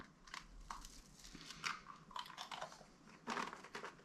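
Homemade cookies are bitten and chewed close up, a handful of quiet, crisp crunches spaced irregularly over a few seconds, with no talking.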